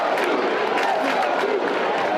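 Fans at an ACC basketball tournament cheer loudly as a dense crowd, with mixed voices and shouts rising and falling throughout.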